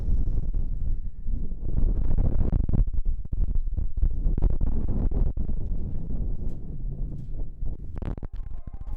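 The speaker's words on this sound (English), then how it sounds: "It's so windy outside. Like you can hear the wind just rattling the house." Strong wind blowing outside during an ice cave expedition in Svalbard, a steady low rumble with constant gusting and buffeting against the microphone, punctuated by faint knocks and rattles, without speech.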